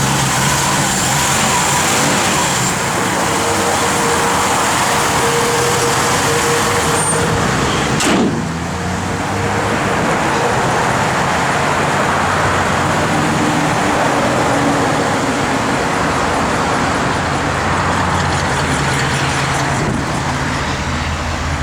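A 1955 Ford Customline driving on the road, its engine and tire noise a steady, loud broadband rumble throughout, with a brief sharper swell partway through and no talking.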